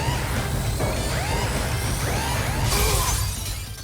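Dingodile's barrier shatters in Crash Bandicoot N. Sane Trilogy: a bright glassy crash bursts out near the end, following a run of sweeping, warbling game effects over a constant low background hum.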